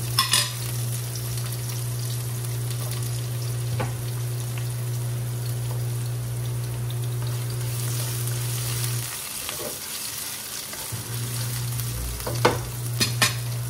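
Garlic, scorched at the edges, fries in hot oil with a loud, continuous sizzle close by, broken by a few scraping stirs and utensil clinks against the pan over a steady hum.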